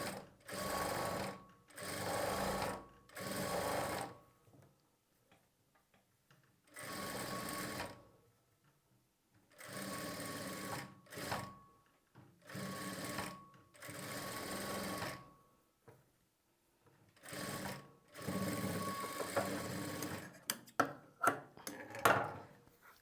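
Sewing machine stitching lining for blouse piping, running in repeated bursts of steady mechanical whirring separated by short pauses, with quicker, choppier bursts toward the end; no talking.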